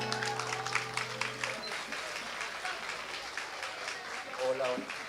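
Steady applause from an audience at a guarania music performance fills the clip, dense and moderately loud, with a few voices and some cheering mixed in.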